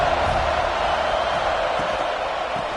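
A football stadium crowd roars in a steady, loud, continuous wash of cheering at a Red Raiders game, with no break or pause across the short stretch.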